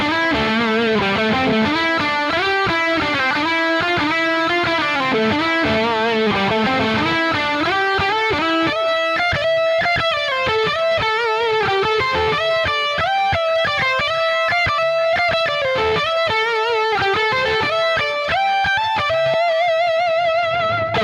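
An electric guitar plays through the Archetype X amp plugin, a loud, distorted, continuous riff with quick rhythmic chord changes and no speech.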